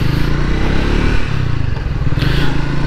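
A Triumph Speed T4 motorcycle engine runs loud and close, a continuous throaty rumble that rises briefly as it is revved, with a faint clatter underneath.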